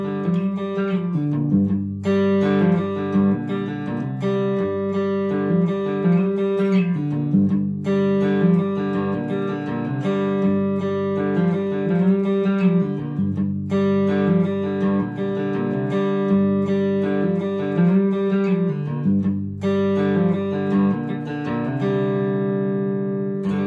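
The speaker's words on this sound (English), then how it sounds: "you mute the strings in the back a little bit, it'll sound a little like this." Cigar box guitar riff played faster with the strings muted at the back, a busy, steady stream of plucked notes over a low drone, close and loud with brief pauses between phrases.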